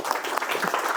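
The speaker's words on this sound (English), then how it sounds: "So please give her a warm round of applause." An audience at a corporate security talk gives a brief burst of dense, steady applause for the arriving speaker, moderately loud with no voices over it.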